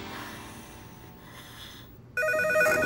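A cartoon telephone bursts into a bright, electronic trilling ring after a quiet stretch of soft background sound, loud and close.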